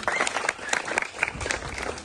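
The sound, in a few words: applause for the madam at a school event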